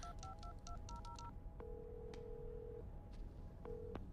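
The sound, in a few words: telephone dialing tones, call goes unanswered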